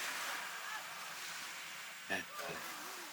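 A constant wash of sea waves rolling and hissing at Busdak Beach, Camarines Sur, with a brief voice breaking in near the end.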